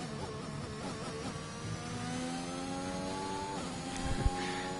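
A Williams Formula 1 car in a racing video game accelerates hard out of the final corner, its engine note climbing steadily through the gears as a loud, continuous, up-close whine with no talk.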